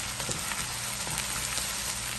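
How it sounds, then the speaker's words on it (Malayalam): Ginger and garlic sauté in hot oil in a pan for mango pickle, giving a steady, close, dense sizzle with faint crackles and no voices. "ഇനിയും ഇതിലേക്ക് ഇഞ്ചി, വെളുത്തുള്ളിയും കൂടെ ഇട്ട് നല്ലതുപോലെ ഒന്ന് വഴറ്റിയെടുക്കാം"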